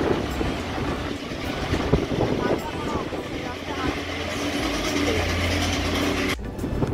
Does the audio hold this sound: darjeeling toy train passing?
yes